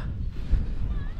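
Wind gusts across an exposed hill summit in the Ochil Hills, a low rumbling buffet against the microphone that swells and eases briefly, moderately loud.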